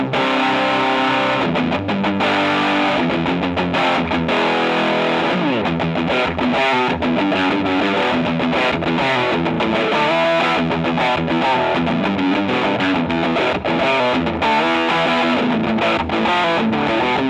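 Electric guitar played through distortion and compression pedals gives a dense, saturated stream of chords and notes, loud and continuous, with no voice.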